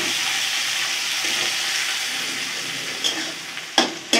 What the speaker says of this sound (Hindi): प्याज अच्छी तरह से भून चुका है